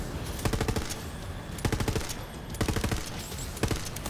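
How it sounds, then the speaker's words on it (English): A weapon in Borderlands 3 fires in short bursts, sharp clusters of gunshots repeating every second or so, loud and close with no talk. "Let's switch this to burst fire."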